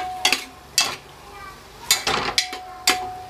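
Chicken stirred through coconut oil in a pan, with several sharp scraping and clinking strokes of a spoon against the metal arriving in an uneven rhythm, close and fairly loud.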